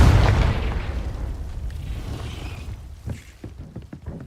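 A heavy booming blast from the Confringo spell in Hogwarts Legacy, loud at the start and rumbling away into a fading roar with small crackles afterward.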